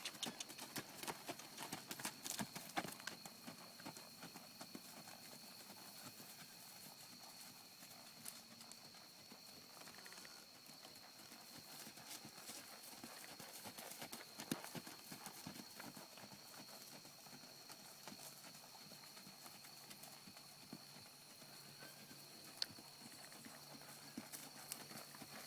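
Horse hooves clip-clopping steadily at a trot during a riding lesson for beginners, a continuous rhythmic patter of fairly faint, close-miked footfalls running throughout without talk.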